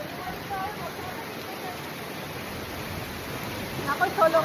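Bagyangon Falls waterfall, a steady broadband rushing of falling water filling the scene evenly, with a faint voice emerging near the end.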